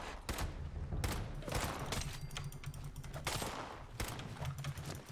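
Rapid gunfire crackles during Fallout 76 gameplay, a series of sharp, clustered shots at moderate level, some bursts overlapping, with no talk over them.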